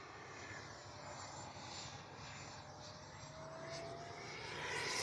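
An FMS Integral 80mm RC jet plane flies past as a faint, steady rushing whoosh with a thin whine that swells slightly toward the end.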